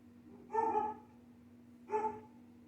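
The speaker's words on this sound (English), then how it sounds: "My landlord has a dog." Two short barks from a dog, spaced about a second and a half apart, sound fairly faint and somewhat distant over a low steady hum indoors.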